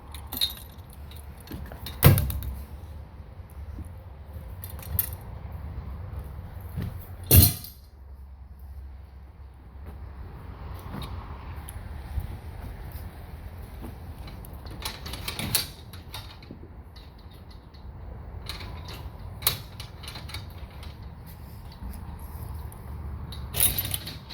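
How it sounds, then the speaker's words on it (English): Metal braces are pulled out of an 8.5 by 24 enclosed stage trailer, giving a few sharp metallic clanks and rattles spread over a low background rumble, with no voices heard. "When you get ready to fold it up, pull the braces out here."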